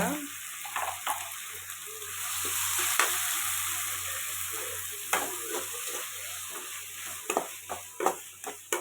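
Tomatoes sautéing in a pan with salt and turmeric for a chicken gravy: a steady bright sizzle throughout, punctuated by stirring scrapes and clinks of the spoon against the pan.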